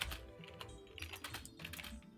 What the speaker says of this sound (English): Are you not typing in the group chat?